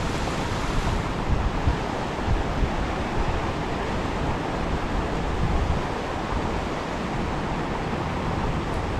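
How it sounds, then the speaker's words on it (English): Steady roar of a small mountain waterfall with white water rushing over rocks near alpine lakes, a dense continuous wash of noise, fairly loud and close, with some wind buffeting. "the little bit of white water raft, running water coming through the rocks."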